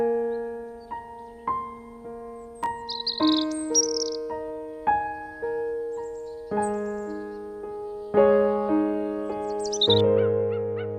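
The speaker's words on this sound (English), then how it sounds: "The chirping and squeaking of these melodious birds that echoed the biosphere brings a sense of happiness and joy to the herd." Melodious birds chirp and squeak in a nature reserve in Mizoram, a layered chorus of tonal calls and whistles with repeated phrases, fairly close and continuous, with no talk.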